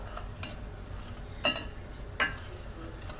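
A spoon stirs milk into flour, sugar and salt in a bowl, giving soft scraping with three sharper clinks against the side, close and fairly quiet.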